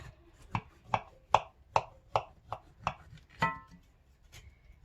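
A knife chops through freshly made cornbread with a crispy edge, about nine crisp, evenly spaced cuts hitting the board, close and clear with no talking.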